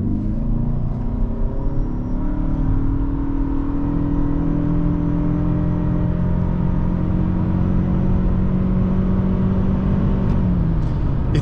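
A 2024 Toyota Camry Hybrid SE accelerating hard from 0 to 60, heard from inside the cabin as a loud, steady engine drone and road rumble that climbs slowly in pitch before easing off near the end.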